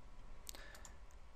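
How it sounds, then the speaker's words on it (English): A computer mouse double-clicks to highlight text in After Effects CS6, giving a few quick, faint, close clicks against quiet room tone. "I'm actually just going to highlight it all again by double clicking on it"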